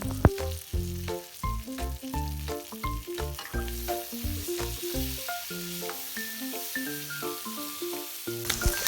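Brinjal and dried fish fry in a pan for a Sri Lankan tempered curry, giving a soft continuous sizzle with stirring, largely covered by melodic background music.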